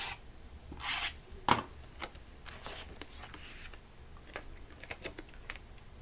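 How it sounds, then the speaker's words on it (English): Tape being pulled and pressed onto the back of a paper note: a brief rasping strip pull, then faint scattered rubs and taps, close and quiet. "Let's put some tape on the back."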